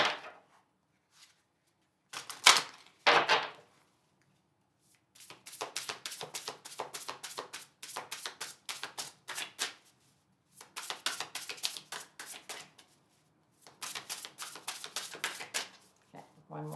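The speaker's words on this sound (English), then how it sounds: "one more shuffle" Tarot cards are shuffled close up in repeated riffling bursts, each a rapid flutter of snapping cards, separated by short pauses.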